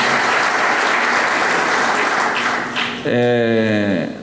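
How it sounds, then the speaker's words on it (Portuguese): Audience applause at a church ceremony honoring a pastor as an honorary citizen of São José dos Pinhais, steady dense clapping for about three seconds before a voice with a sustained tone cuts in at the end. "Você pode aplaudir a memória do pastor."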